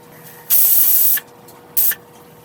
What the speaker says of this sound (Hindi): अब प्रेशर कुकर का ढक्कन लगाकर मीडियम आंच पर इसे 4 से 5 सीटी होने तक